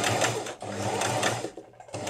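A sewing machine stitches fabric with ecru thread around a window shape, a close rapid mechanical whir running in bursts with brief pauses between stitching runs.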